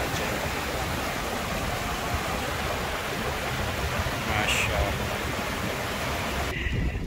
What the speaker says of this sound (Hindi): यहाँ से देखें तो पूरी आबशार बनी हुई है, बहुत तेज़ी से पानी आ रहा है इस तरफ